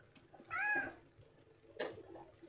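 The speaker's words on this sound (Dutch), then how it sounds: "dit is mijn lieve kat Alfie." Orange house cat giving one clear, close meow with a rising-falling pitch, followed by a second, fainter and shorter vocalisation a moment later in an otherwise quiet room.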